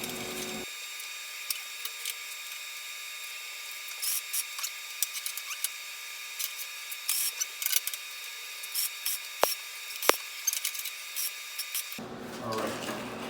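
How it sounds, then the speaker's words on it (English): A welder tack-welds a custom engine mount for a Honda GX200 clone engine, giving a steady crackling hiss for about eleven seconds with a few sharper pops and snaps near the end, then cutting off. "let's get that welder back on. Start tacking that together."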